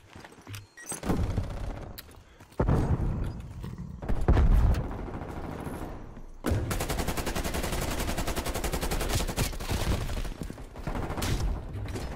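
Krig 6 rifle fire in a Call of Duty match: several short bursts early on, then a long sustained automatic stream of rapid cracking shots, loud and close, with game effects between.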